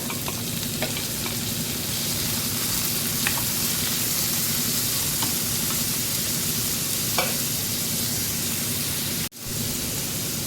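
Chopped tomatoes tipped onto browned onions in a hot pan, a steady loud sizzle with occasional scraping stirs and faint clicks throughout, close up, broken near the end by a brief drop out.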